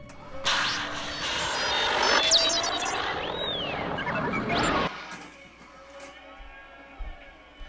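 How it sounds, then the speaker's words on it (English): R2-D2 from a Star Wars cartoon, his circuits going haywire: a dense burst of whistling electronic squeals and sweeping chirps over clattering noise, loud for about five seconds, then cutting off to a quiet hum with a few faint clicks. "That was the sound of his circuits kind of going crazy,"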